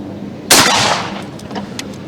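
A Remington 1100 12-gauge shotgun fires once at a patterning target, giving a single sharp, loud blast that decays quickly, with faint clicks afterward.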